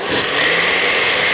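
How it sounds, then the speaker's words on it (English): A blender whirs loudly and steadily, grinding almonds for a smoothie with a harsh, gritty high-pitched roar. "pardon the noise, but you know, you got to make noise to do smoothies"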